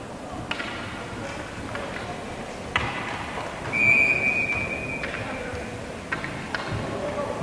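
A referee's whistle at an amateur ice hockey game gives one sustained shrill blast midway, heard over rink ambience, scattered thumps and a murmuring crowd.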